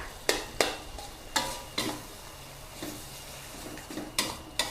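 Instant noodles stir-fried with chili paste and clam sauce in a pan give sharp, scraping stirring strokes in irregular bursts over a quiet sizzle, close but low in level, with no talking.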